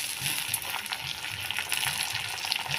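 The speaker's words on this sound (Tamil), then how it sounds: "இப்போ ஒரு இருபது முந்திரி நல்லா கழுவி சுத்தமாக போட்டுக்கோங்க" Cashews and sliced onions fry in hot oil with a dense, continuous crackling sizzle, close and fairly soft, with no voices.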